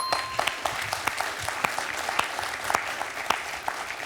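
A small group applauds on a TV quiz show, bright distinct claps coming in an irregular fast patter at moderate volume with a light hum of room noise beneath and no talking.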